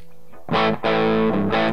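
An electric guitar played through distortion without the Big White Monkey pedal engaged, heard as loud, sustained overdriven chords struck in three bursts with a short gap between them, close and alone.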